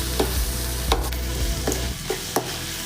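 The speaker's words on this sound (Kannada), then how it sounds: "ಈ ರೀತಿ ಫ್ರೈ ಮಾಡ್ಕೊಟ್ರೆ ಚೆನ್ನಾಗಿರುತ್ತೆ." Okra and tomato frying in a pan give off a steady sizzle, broken by a few clear scraping clacks of a spatula stirring at roughly even intervals, with no voices.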